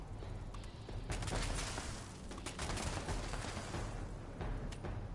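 Turrets firing in Fallout 76, a dense sustained rattle of gunfire with sharper shots breaking through, moderately loud and continuous throughout.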